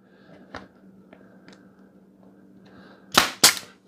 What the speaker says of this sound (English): now let's grab our brad nailer, and hopefully we won't shoot our finger through